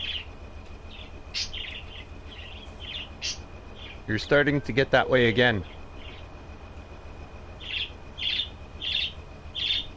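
A pet bird at home gives repeated bright chirps and squawks close by, with loud bursts between stretches of calling while someone speaks over part of it.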